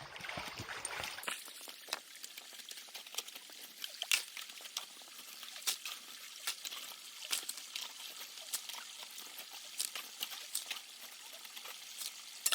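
A gold pan is worked in a river, giving soft water trickles and small splashes, sloshing, and gravel clicks in an irregular rhythm. The sound is close but quiet, with a brief louder wash at the start.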